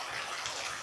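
Water pours from a fountain in a brief, steady gushing splash, faint and continuous with no other sounds.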